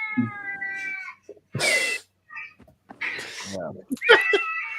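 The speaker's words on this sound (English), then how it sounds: "watching cats getting scared on the, on the video" Frightened cats meowing and yowling in short, drawn-out cries, with people talking over and between them in the same room.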